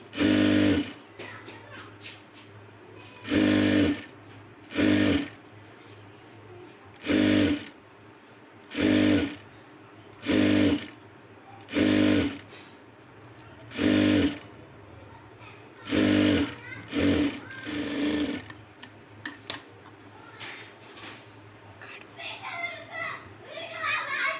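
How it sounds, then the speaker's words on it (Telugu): A sewing machine attaches piping to a star-shaped blouse neckline in short, evenly spaced bursts. Each run lasts about a second, separated by brief pauses over a constant low hum, and gives way to quieter handling noise near the end. "దీంతోనే ఇవాళ నేను స్టార్ నెక్కు పైపింగ్ వేయబోతున్నానండి."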